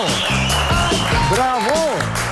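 Studio audience applause on a Chilean late-night talk show, a steady dense wash of clapping running throughout and mixed with shouted cheers and talk, with a host's voice rising over it.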